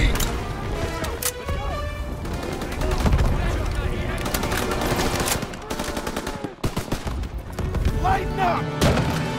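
Sustained machine gun fire and scattered gunshots in the Call of Duty WWII Rhine river battle, loud and close, dense bursts with booms, under shouted voices.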